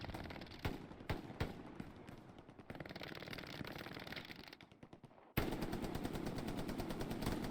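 Gunfire in the World War II shooter Hell Let Loose, with sharp single shots followed by sustained rapid machine-gun bursts that grow louder and denser near the end.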